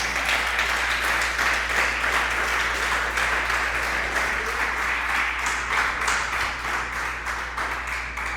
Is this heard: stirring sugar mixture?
no